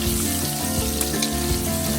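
Boiled eggs fry lightly in hot oil in a pan for an egg bhuna, giving a soft, steady sizzle with no talking.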